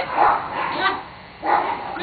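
A dog barks twice in short bursts, close by, with a pause between them, while a person talks over and between the barks.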